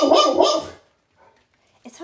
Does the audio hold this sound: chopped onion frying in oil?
no